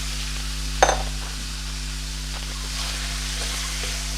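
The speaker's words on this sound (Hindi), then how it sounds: "मैं इसे उस वक्त तक फ्राई करती हूँ, इसमें कोई चीज़ नहीं डालूँगी जब तक इसका कलर नहीं चेंज हो जाता" Chicken pieces frying in a pan for a desi-style chicken spaghetti, a soft steady sizzle with a single sharp clink of a utensil early on, close and without talk.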